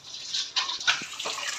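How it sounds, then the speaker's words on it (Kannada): Boiled water poured into a dum biryani pot, a short steady gushing pour with bubbling splashes, close and moderately loud, with no talking. "ಇವಾಗ ನಾನು ಕುದಿಸ್ಕೊಂಡಿರೋ ನೀರು ಹಾಕ್ಕೊಳ್ತಾ ಇದ್ದೀನಿ."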